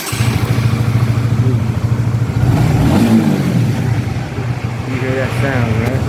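A motorcycle engine idles steadily close by in a garage, a continuous low throbbing rumble with a few faint revs rising over it, while someone talks.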